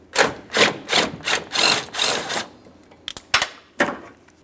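Removal of the 10mm mounting bolt at a 2015-2020 Ford F-150 antenna base, with about eight short scraping and ratcheting bursts in an uneven rhythm, close and fairly loud, no talking.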